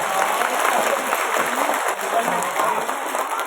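Applause from a group of madrasah students at an Isra Mi'raj school event, a steady dense clapping that fills the room loudly and evenly from start to finish.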